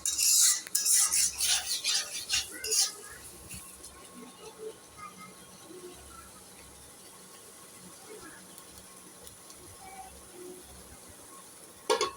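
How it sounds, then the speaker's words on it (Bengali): A spoon scrapes and clinks as food is stirred in a covered cooking pot, with a burst of busy scraping early on, then quieter, sparse knocks against a low kitchen hum. "ঢেকে দেওয়ার পর আবারও ভালো করে নাড়াচাড়া দিতে হবে 3-4 বার"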